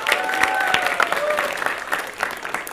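Applause from a large audience at a Palembang comedy show, a dense patter of claps lasting a few seconds with whistles or cheers rising over it and some voices mixed in.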